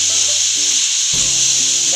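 Vegetables for street-style veg chowmein stir-fry in a pan, a loud close hiss of sizzling with a scraping, rubbing stir in the middle, brief and continuous.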